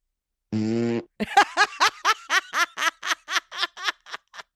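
A voice imitates a fart with one long, buzzing, flat tone, then breaks into a rapid run of giggling, snickering laughter that fades in bursts.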